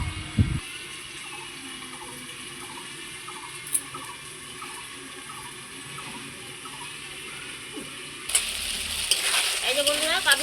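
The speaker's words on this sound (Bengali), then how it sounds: "কাবলি ছোলাটা দিয়ে খুব সুন্দর করে এই মশলার মধ্যে আমি কষিয়ে নেব।" Kabuli chickpeas frying in a spice paste, a steady low sizzle with occasional soft stirring scrapes, turning louder and busier near the end as the pan is worked more vigorously.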